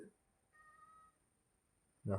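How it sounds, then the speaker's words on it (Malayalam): A cat gives a soft, thin meow partway through, then a louder, sharper burst of sound comes at the very end. "നമ്മളെ പൂച്ചക്കുട്ടി ഇവിടെ ഉണ്ട്."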